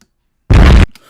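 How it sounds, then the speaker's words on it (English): Loud nuke bomb explosion sound effect: after a near-silent start, a sudden dense full-range blast holds for about a third of a second, then cuts off into a faint, crackling tail. "I'm pretty sure I have an explosion sound effect too."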